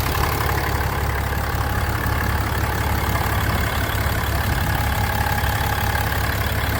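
A 6.7-liter straight-six Cummins turbo diesel in a 2018 Ram 3500 Crew Cab dually idles steadily under the hood, a loud, even, unbroken rumble with no voices.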